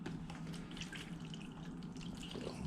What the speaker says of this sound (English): We do want to give them some water